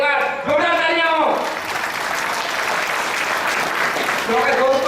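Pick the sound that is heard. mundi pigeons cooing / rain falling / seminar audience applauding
seminar audience applauding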